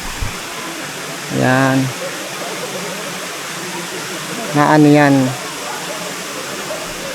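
Daranak Falls in Tanay, Rizal pours in a steady, loud, broadband roar that fills the whole clip, with a person speaking briefly twice over the rushing water.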